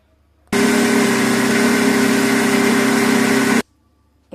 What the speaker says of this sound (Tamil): இப்போ ஊற போட்ட கசகசாவை மிக்சியில் அரைச்சிக்கணும்.